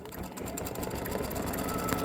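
A sewing machine stitches freestanding lace Christmas ornament earrings, running steadily and fairly close with a continuous mechanical whir and rapid needle clatter throughout.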